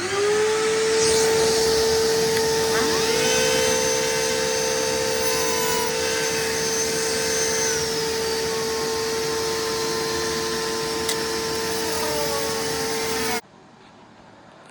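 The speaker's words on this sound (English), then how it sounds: "I have chopped out with the Dremel the servo covers where those are going to be" A Dremel rotary tool cuts servo cover openings in a composite glider mould with a continuous high-pitched whine that stays close and steady, shifting slightly in pitch as it bites, then stops abruptly.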